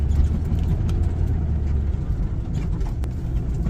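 A car driving down the road with a steady low engine and road rumble, continuous and close, with a few faint clicks over the drone.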